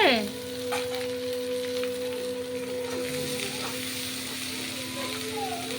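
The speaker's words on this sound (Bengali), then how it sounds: "পেঁয়াজটা ভাজা হয়ে গেছে" Onions fry in a home kitchen pan with a steady, close sizzle and a few soft stirring clinks. A brief voice-like sliding tone opens the sound before the even frying hiss settles in.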